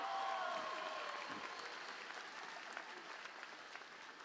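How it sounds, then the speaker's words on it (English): Applause at a university commencement ceremony fills a large hall, a broad wash of many hands clapping that starts strong and slowly thins, with faint voices underneath. "Let's give a big round of applause."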